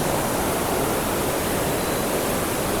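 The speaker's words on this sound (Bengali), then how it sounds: "এই যে গেট খোলা আছে, গেটের স্রোত একটু দেখাচ্ছে।" Water rushing through an open gate of the Tilpara Barrage, a dense, continuous roar that stays loud and even throughout with no pauses or voices.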